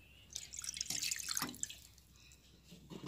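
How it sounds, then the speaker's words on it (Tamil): Water is poured into a pan for steaming beaten egg while making egg manchurian, heard as a faint, close trickle and splash with soft drips. "இதையில நான் கொஞ்சம் தண்ணி ஆட்"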